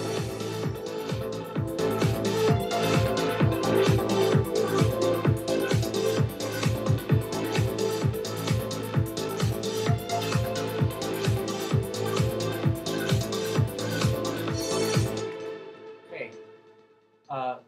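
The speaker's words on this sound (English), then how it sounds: "the kick drum with all the instruments playing sounds like this" A trance track loop plays with a steady pounding kick drum under all the other instruments for about fifteen seconds, then cuts out, leaving a short quiet tail with faint sounds.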